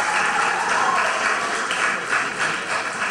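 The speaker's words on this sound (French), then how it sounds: "Donc, applaudissez-vous, s'il vous plaît." An audience applauds after a lecture on molecular gastronomy, a steady dense wash of clapping from many hands that fills the whole moment without pause.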